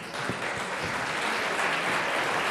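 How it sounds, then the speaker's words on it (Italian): An audience at a song festival gives steady applause welcoming an artistic director on stage, a continuous wash of clapping with no talk over it. "accogliamo con un applauso Loris Bertezzolo"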